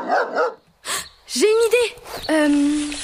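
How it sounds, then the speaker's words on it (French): A dog comes close and gives several strained, yelping barks and a drawn-out whine, heard right after a brief spoken line in French. "un chien qui s'approche de nous"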